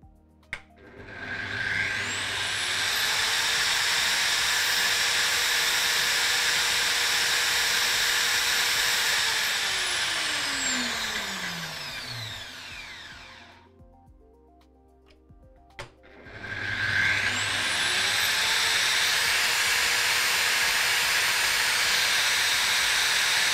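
An electric angle grinder on a test bench runs loud and steady for about twelve seconds with a bright whine, spins down as its pitch falls, then starts up again and keeps running. No one speaks.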